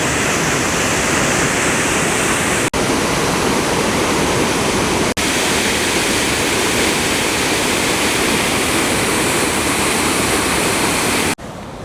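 A waterfall in Iceland pours in a loud, unbroken roar close at hand, a dense wash of falling water with no voices over it.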